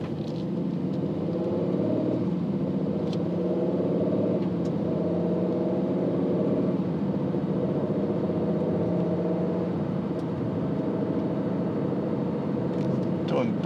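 A 2020 Aston Martin Vantage sports car cruising on the road, its engine giving a steady low rumble and drone with some tire and road noise, heard from inside the cabin.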